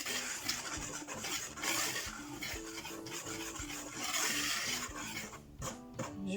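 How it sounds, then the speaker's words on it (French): Whisk scraping continuously around a bowl while mixing a crêpe base with sugar and salt, a close, gritty rubbing with steady rhythm. "Je mélange un peu."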